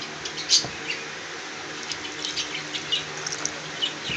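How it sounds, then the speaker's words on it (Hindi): Water is poured into shallow bird drinking bowls, giving a light trickling splash under background bird and insect chatter, with a few brief louder splashes. "ये मैं बर्तनों में पानी डालता हूँ।"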